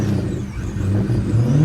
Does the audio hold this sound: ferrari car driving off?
yes